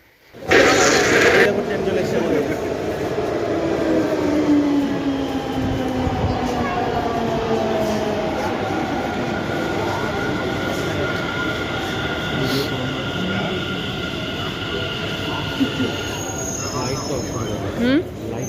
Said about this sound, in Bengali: দেখো আমরা এখন মেট্রোর ভেতরে বসে পড়েছি